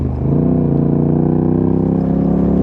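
A Yamaha R7 engine idles through an aftermarket exhaust, giving a close, steady, throbbing rumble with a fast even pulse and no talking.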